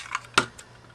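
Piece of tape pressed onto a scrapbook layout by hand: a couple of soft, brief crinkly taps and a sharper central tap, close and quiet, with no voices.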